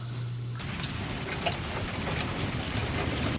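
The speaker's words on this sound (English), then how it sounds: "video submitted by citizen journalist Josh, you can hear the heavy downpour." Heavy rain pours down in a steady, dense roar that begins abruptly after a brief quieter moment and continues loudly throughout.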